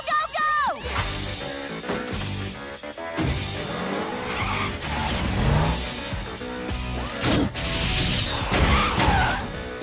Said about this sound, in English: That car looks like it's driving on the wrong side of the road.